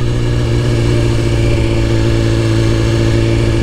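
Steady engine note of a BMW S1000RR sport motorcycle running close by, a constant loud drone with a strong low rumble and no talk over it.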